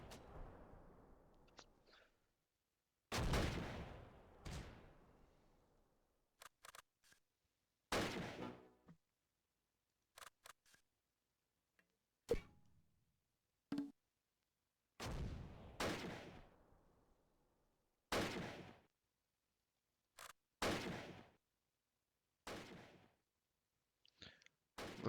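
Mortar fire in a video game: a long series of heavy impacts and blasts, roughly a dozen sharp bursts with decaying rumbling tails, irregularly spaced and separated by short quiet gaps, with no talk.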